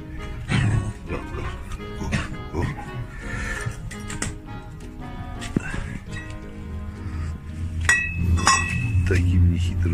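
A dog barks and yips repeatedly near a scooter tyre-repair bench, mixed with clinks of tools and a man's speech.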